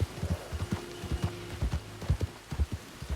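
Horse hooves clip-clop at a steady walking rhythm in Red Dead Redemption 2, close and fairly loud, with a low hum underneath and no talking.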